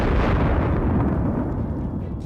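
A loud, rumbling explosion from an FPV drone strike on a battlefield position, with a sustained roar of debris and noise that slowly fades over a couple of seconds.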